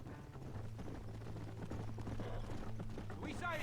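Galloping horse hooves in Red Dead Redemption, a steady rhythmic clip-clop running throughout under a voice talking, with a low sustained tone beneath.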